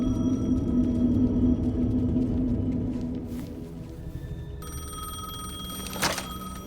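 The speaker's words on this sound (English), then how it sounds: "The payphone was ringing." A payphone ringing in the video game Alan Wake 2, a repeated bell tone heard over a low, droning ambient background, moderately faint and steady throughout.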